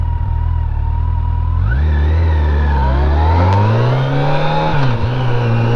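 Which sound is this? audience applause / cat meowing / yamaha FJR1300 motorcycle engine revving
yamaha FJR1300 motorcycle engine revving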